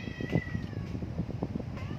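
Several cats meow repeatedly at close range while circling someone eating breakfast, overlapping high-pitched cries over a low background rumble.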